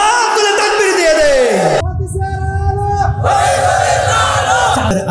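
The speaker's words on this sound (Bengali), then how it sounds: "দু হাত তুলে তাকবীর দিয়ে দে।" A large crowd at a Bengali Islamic waz sermon in Bhaluka roars a takbir together with raised hands. The loud, sustained massed shout follows the preacher's voice and fills the whole moment.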